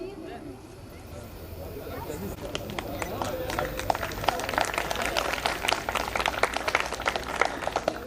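An audience claps at a medical college farewell party in Dewas, steady scattered applause building in density, with a voice speaking over it in the opening seconds.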